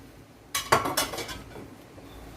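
Peas are tipped into a pot of chicken noodle soup, a short clatter of clinks against metal that fades into a soft bubbling background, close and alone.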